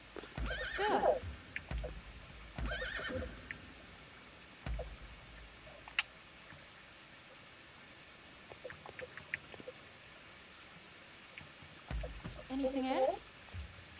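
A legendary horse in Rise of the Ronin whinnies twice, once at the start and again near the end, with scattered hoof clops and small game effects in between.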